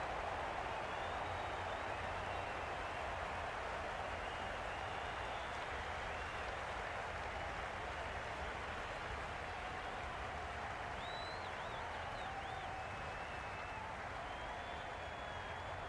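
Sustained applause and crowd noise from a large cricket stadium crowd at a T20 World Cup match between Australia and Ireland, a steady dense wash of clapping and murmur that holds evenly without a break.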